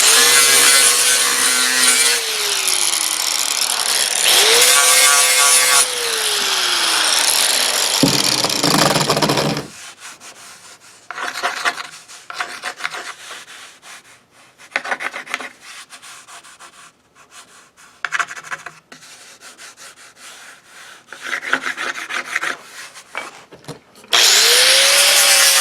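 Power sander run back and forth across the bottom of a copper beech wood tray, loud steady whirring and rubbing that stops, then lighter intermittent scraping and handling noises, with the sander roaring back at the end.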